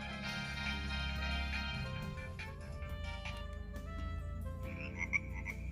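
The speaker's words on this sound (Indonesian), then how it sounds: "Ini ada suara kodok." A frog croak ringtone on a Nokia 1200 phone: tonal electronic chirps and croaks repeating over a steady low hum, fairly loud and alone.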